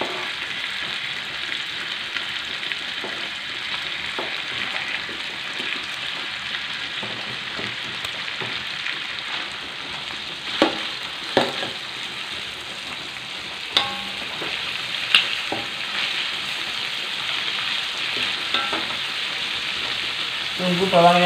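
Garlic and shallots fry with squid in a pan, a steady broadband sizzle running throughout with occasional sharp clicks and scrapes of stirring, close and fairly loud, no talking.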